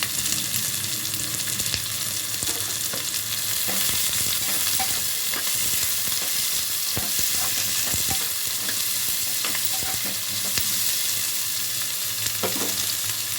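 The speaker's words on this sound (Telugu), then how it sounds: "పచ్చిమిర్చి ఆనియన్స్ రెండు వేసుకొని ఫ్రై చేసుకుంటున్నాను" Onions and green chillies frying in hot oil in a pan for a tomato dry fish curry, a steady close sizzle with scraping stir strokes throughout and no talk.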